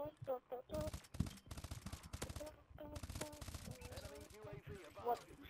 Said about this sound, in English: IMR is a fun gun.